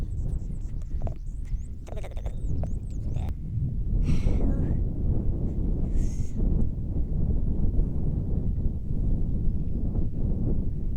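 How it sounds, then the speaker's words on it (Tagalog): Wind rumbles and buffets across the microphone in a steady low roar, with brief faint voices and chirps in the distance. "Oh, medyo mahangin naman ngayon"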